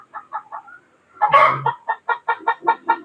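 Crossbred backyard chickens cluck close by in a quick, rhythmic run of short calls, with one louder squawk breaking in near the start; no talking.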